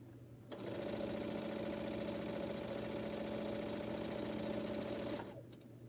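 A sewing machine stitches quilt pieces for a Minnie quilt: a steady, close mechanical hum with a fast rhythmic whir that starts suddenly, runs for almost five seconds and then stops.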